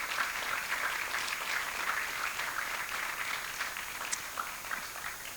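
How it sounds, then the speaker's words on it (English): Steady applause from an audience at a live event, a continuous wash of clapping at moderate distance with no talk over it. "Please give them a warm round of applause as well."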